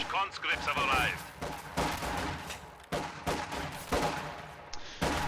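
Gunfire crackles through a World War II strategy game battle as grenadiers engage conscripts holding a building, with bursts of rifle shots and impacts layered over a steady din of battle and a commentator talking throughout.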